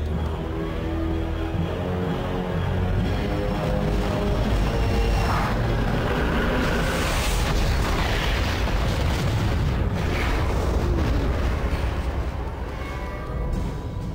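Rumbling explosion effects from a Stargate SG-1 space battle, in which the Tau'ri ship Odyssey destroys an Ori mothership, form a loud, continuous roar with heavy low booms and bursts layered over sustained dense noise throughout.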